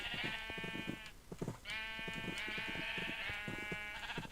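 Several Minecraft sheep bleat in quick succession, wavering nasal baas overlapping one another at a steady, fairly loud level.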